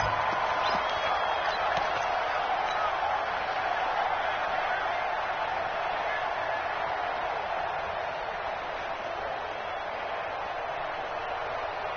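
Continuous roar of a stadium crowd in a PS4 American football game with Oakland on offense, a steady broad wash of distant cheering and murmur that holds for the whole stretch under occasional commentator talk.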